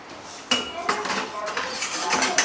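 Mysore pak mixture being stirred continuously in a pan, with a spoon clinking and scraping against the metal in repeated close strokes over a steady background hiss.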